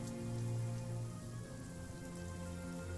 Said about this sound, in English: You hear the rain coming down.